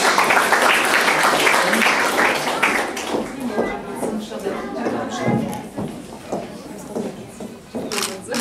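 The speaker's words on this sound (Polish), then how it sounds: "Wielki brawa!" Applause from an audience at a children's literary contest prize ceremony in Olsztyn, loud dense clapping at first that thins into scattered claps, with people talking over the tail end.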